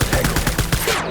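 Rapid automatic gunfire in the video game Death Stranding, a dense, loud string of evenly spaced shots with no pauses.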